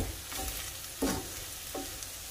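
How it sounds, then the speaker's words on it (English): Beef browning and sautéing in a pan for a pot pie gives a steady, faint sizzle, with a couple of brief louder stirring scrapes breaking through the crackle. "it's important that you truly brown the meat and saute it very well."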